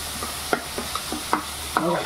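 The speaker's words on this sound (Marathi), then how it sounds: "कांद्याची पेस्ट शिजून द्यायची आहे आपल्याला." Onion paste sizzles in a pan for a homemade veg biryani while a spoon stirs it, scraping in several sharp, close strokes over a constant low frying hiss.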